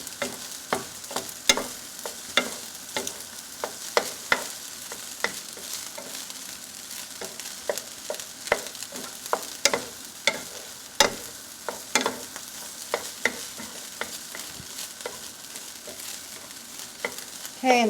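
Eggs for fried rice sizzle in a hot pan while a utensil stirs and scrapes them, making frequent sharp irregular clacks over a steady frying hiss.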